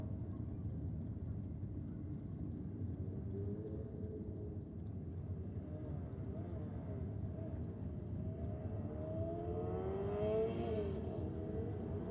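A two-stroke motorcycle runs at Sydney Dragway on bike night, a steady distant engine drone with a rising whine building toward the end, heard at a distance without speech.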